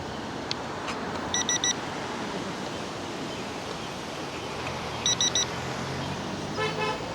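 Car horn honks near a bridge: a short double toot, a pause, then another double toot and a final brief blast, ringing over steady wind and traffic rumble.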